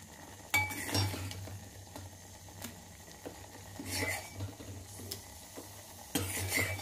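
Tadka spices sizzling in about two spoons of oil for pepper rasam and gongura pappu, a faint crackling hiss with scattered clinks of a spoon against the pan and louder stirring bursts, close and without speech.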